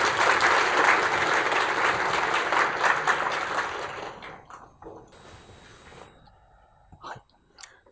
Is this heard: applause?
yes